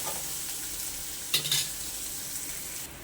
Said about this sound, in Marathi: कांदा आणि मिरची छान आपल्याला तेलामध्ये फ्राय करून घ्यायची